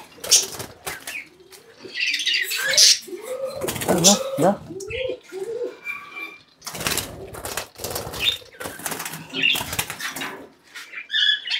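Small lovebirds flutter and chirp up close on a farm while someone talks over them, with bursts of wing flapping and squawks scattered throughout.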